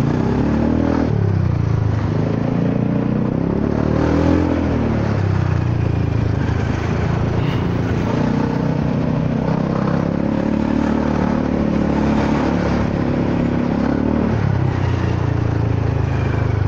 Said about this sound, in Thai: ตอนนี้มีมอไซค์มาแล้วครับ